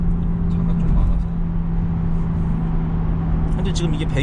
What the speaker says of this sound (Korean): 현재 지금 이게 배기음이 이제 굉장히 강하게 들리는데